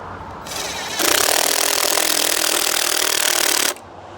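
A cordless drill whirs as it drives screws into a gate pole, a short spin-up followed by nearly three seconds of loud, steady high-pitched whine that stops abruptly, close to the listener.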